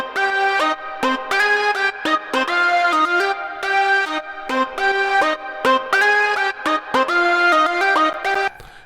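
A second synthwave lead patch built in Ableton Live plays a bright, harmonically rich melodic line of short repeated notes in a steady rhythm, loud and up front with no voices.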